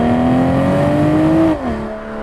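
A BMW M340i Touring inline-six engine drones loudly and steadily through the exhaust, pitch slowly climbing, then drops suddenly as the revs fall away.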